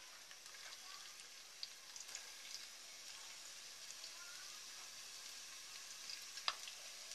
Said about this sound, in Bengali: এবার আমি এখানে 1 কাপের মতো পেঁয়াজ কুচি দিচ্ছি